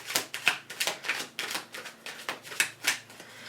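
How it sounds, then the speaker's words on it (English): Rapid riffle-shuffling of a card deck, crisp fluttering bursts repeating roughly every few tenths of a second, close and clear with no talking. "Ooh, I'm feeling one more shuffle."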